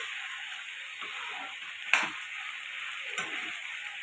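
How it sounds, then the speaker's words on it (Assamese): Cloves and cardamom frying in hot oil in a pan, a soft steady sizzle with two brief clinks of a utensil, no voices. "এতিয়া অকণমান ভাজি লৈছোঁ।"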